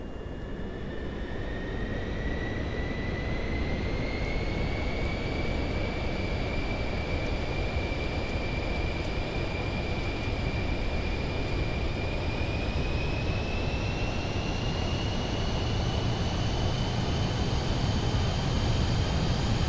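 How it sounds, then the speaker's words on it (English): Cirrus Vision Jet taking off in Microsoft Flight Simulator 2024, a steady loud jet engine roar with a slowly rising whine that holds throughout, no voices. "Let's go ahead and let's take off."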